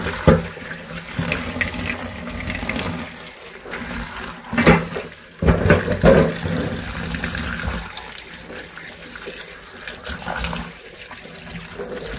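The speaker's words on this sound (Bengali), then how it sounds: "চলো ভালো করে তাকে জল দিয়ে ধুয়ে নিই" Leaves being washed under running water in a home kitchen: a steady, close rush of flowing water with splashes and louder surges partway through, and no talk.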